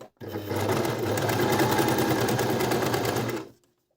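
A Brother ML-55 sewing machine stitches a straight seam on chiffon at maximum stitch length, a fast, even mechanical whir running steadily for about three seconds, then stopping abruptly.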